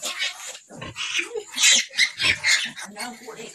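Newborn piglets and their sow, a litter of fifteen, make close, high squeals and short grunts in quick bursts, some overlapping, with brief quiet gaps between.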